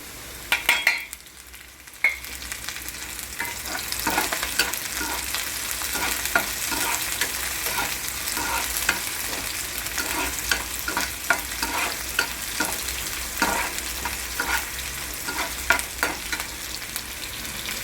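Green chilies and onion sizzle and fry in a pan for a radish and greens vegetable dish, a steady crackling hiss with irregular stirring scrapes throughout, close and alone.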